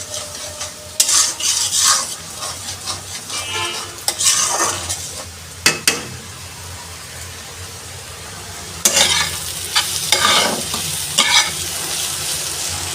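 Masala with dal frying in a pan, stirred steadily: a low continuous sizzle broken by sharp scraping and clinking bursts of spoon against metal, near and loud, with no voices.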